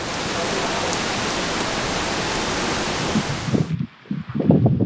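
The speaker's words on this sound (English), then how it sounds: "Do you like the rainy Cotswold weather" Steady rain pours in the Cotswolds, a dense even hiss for several seconds that suddenly drops away, then gives way to nearer scattered patters and rustling.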